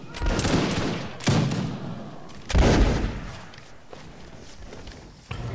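Musket volley firing in the video game Mount and Musket, heard as three loud, rolling broadband bursts roughly a second or so apart, each crackling and tailing off, with faint marching footsteps beneath.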